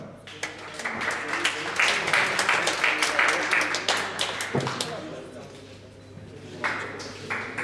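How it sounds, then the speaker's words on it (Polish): Audience applause and scattered clapping at a pre-fight MMA weigh-in event, rising to a dense burst then thinning out, with a voice talking over parts of it. "Gorące brawa."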